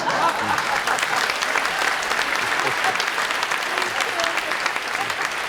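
An audience claps continuously at La Cigale, a dense, steady wash of applause filling the whole stretch with scattered voices mixed in.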